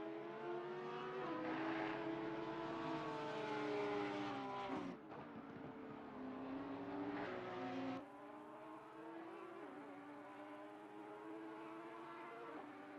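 Porsche and Audi race cars lapping the Kyalami circuit in a 9-hour endurance race, their engines droning as a steady, fairly faint roar whose pitch rises and falls, with no voices.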